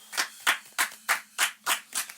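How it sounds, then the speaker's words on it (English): A single person's hand claps, about seven evenly spaced sharp slaps, close and moderately loud, greeting a podcast guest after an introduction. "let's give a round of applause for Kristen Thrillers"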